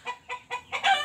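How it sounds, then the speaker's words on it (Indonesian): A free-range hen clucks around egg laying, close by, in four rhythmic bursts; the last is louder and more drawn out. "biasanya seperti itu suara ayamnya itu."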